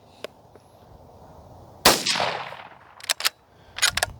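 A suppressed 17 HMR rifle fired at a rock sends one sharp report that trails into a gritty dust-and-debris wash. A few shorter cracks and impacts follow close by, with no talking.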